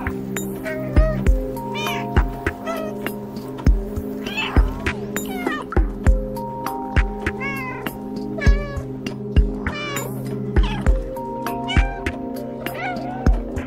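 A cat in the video game Stray meows repeatedly, short clear mews recurring every second or so over a steady droning hum and soft clicks, with a quiet voice now and then.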